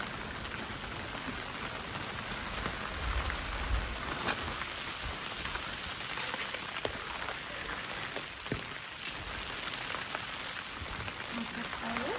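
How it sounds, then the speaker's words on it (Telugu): Rain falls on a vegetable garden on a rainy harvest day, a soft, steady patter of drops on surfaces with a few sharper nearby splashes, fairly quiet and without voices. "వర్షం పడుతుంది కదండి"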